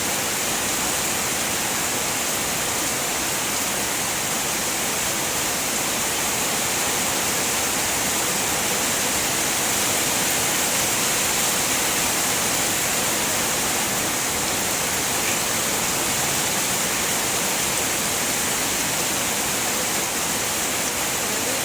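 Heavy rain pours in a dense, unbroken hiss, loud and continuous throughout with no voices.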